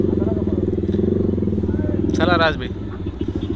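A Yamaha R15 V3 motorcycle with a loud exhaust runs close by with a pulsing, throbbing engine note, briefly covered by someone speaking before the revs pick up again.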